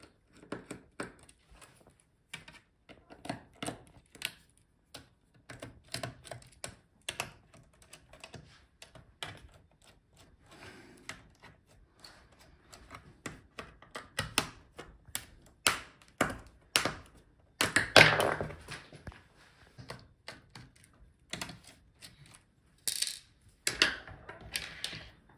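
Small tools work on the bottom screws of an Alienware x17 R1 laptop during a teardown, producing irregular light clicks, taps and scrapes scattered over a long stretch, close and mostly quiet, with a few louder knocks near the end.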